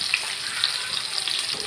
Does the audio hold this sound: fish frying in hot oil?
yes